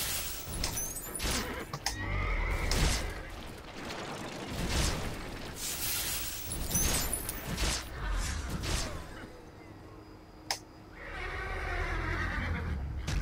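Horse neighing in the Runes of Magic online game, several whinnies over mechanical clanking, ratcheting and gear noises, with hoof clip-clop mixed in the busy game soundscape.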